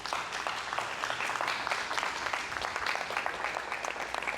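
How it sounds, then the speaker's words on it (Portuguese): Scattered audience applause in a church during a Portuguese-language sermon on the Holy Spirit: steady, moderately quiet clapping from a congregation that carries through the whole stretch with no voice over it. "Quer aplaudir? Fica à vontade."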